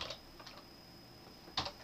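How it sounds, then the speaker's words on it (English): Keys on a computer keyboard tapped to type a letter, a few soft clicks spaced apart with a quick cluster near the end, quiet and close with no talking. "And I can carry on typing"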